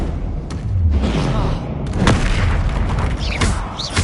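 Spell explosions boom in Hogwarts Legacy on PS5, several heavy blasts and thuds in quick succession, loud and close, with a voice shouting over the combat.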